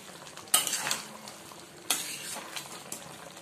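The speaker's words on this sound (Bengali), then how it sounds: "গরম মশলাটা দেওয়ার পর অবশ্যই একটু নাড়াচাড়া করে দেবেন" Soyabean manchurian with garam masala is stirred in a hot pan: a low frying hiss broken by two sharp spoon-on-pan scrapes and a few lighter clinks, close, no talking.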